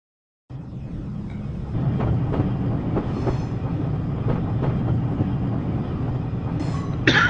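A train in a railway simulator game starts up and then rolls along steadily. Its loud continuous rumble carries faint repeated clickety-clack beats, and a brief squeal comes at the end, with no voices.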